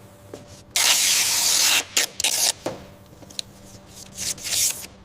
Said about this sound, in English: It's ready for the clear spray now.